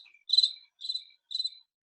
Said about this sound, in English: I'm trying to play cricket sounds off my phone right now.